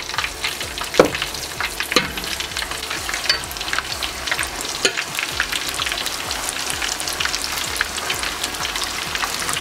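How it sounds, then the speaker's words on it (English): Flour-coated orange chicken wings fry in hot oil with a loud, dense, crackling sizzle that runs unbroken, with a few sharper pops and stirring clatters mixed in and no voices. "And we'll fry the rest of them."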